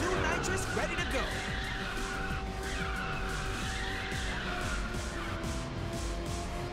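Tires skid and squeal under a droning engine while a car drifts in the video game Ridge Racer 6, a continuous loud slide carried by steady racing sound.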